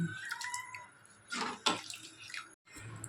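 Water splashes into a cooking pot of spiced tomato rasam in a couple of brief bursts separated by short pauses, close and fairly quiet.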